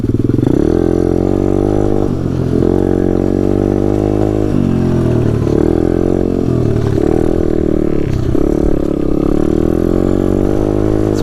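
Taotao DB17 125 pit bike engine while riding, a loud close buzzing drone that rises and falls repeatedly as the throttle is worked, with no talk over it.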